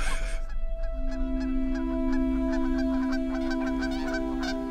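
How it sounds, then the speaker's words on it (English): A goose honks repeatedly as it passes, a run of loud nasal calls over a low steady hum, close at first and carrying on through the whole stretch without talk. "Sorry, a bird went by."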